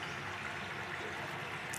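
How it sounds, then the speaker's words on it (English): A stream runs over rocks and around fallen branches with a constant soft rush of water and faint gurgling, steady and moderately quiet with no voices. "Watch the water flow over rocks, around fallen branches, creating cheerful gurgles,"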